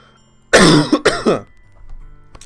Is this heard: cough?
yes